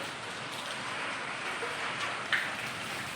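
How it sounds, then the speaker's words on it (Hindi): Heavy rain pours steadily as a dense, even hiss of falling water with runoff flowing, broadband and continuous throughout with no voices. "इतना तेज बारिश हो रहा है, बारिश पानी की रफ्तार देखिए।"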